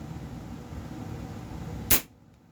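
A Daisy Powerline 822 .22 caliber pump air rifle fires a single sharp, crisp shot after ten pumps, sounding alone over a faint steady background hum.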